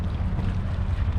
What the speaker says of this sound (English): Got another boat